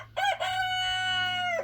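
A rooster in a backyard garden flock crows once, loud and close, a long drawn-out cock-a-doodle-doo lasting over a second, with no talking.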